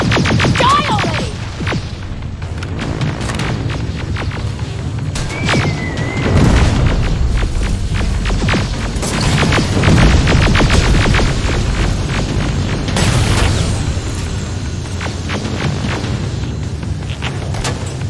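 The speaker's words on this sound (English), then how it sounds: "Got grenades? Fucking throw them!" Grenade explosions in the video game Terminator: Resistance, a chaotic firefight of repeated booming blasts and crashes with whooshing debris, loud and dense across the whole stretch.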